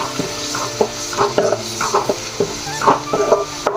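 Spices sizzle and fry in a pan for bread oggarane while a spoon scrapes and stirs them, giving close, irregular clinks and scrapes over a steady sizzle.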